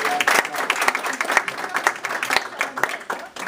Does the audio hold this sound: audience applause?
yes